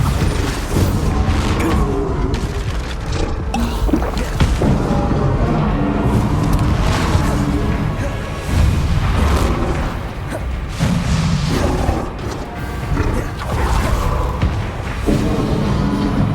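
In Hogwarts Legacy, repeated Bombarda spell blasts go off during a fast duel, booming thuds and bursts landing in quick succession over a dense, loud background of clashing combat effects.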